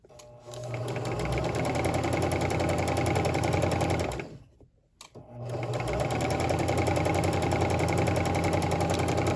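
A sewing machine stitches pillow fabric in a fast, even whir, stops briefly while the needle is pivoted in the fabric and the presser foot lowered, then resumes stitching at full speed.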